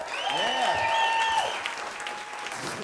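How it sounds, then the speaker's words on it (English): Studio audience at a comedy talk show season finale applauding, a steady wash of clapping under an upbeat voice or cheer early on, fading slightly toward the end. "Give yourselves a round of applause."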